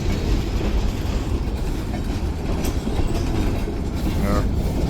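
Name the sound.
freight train passing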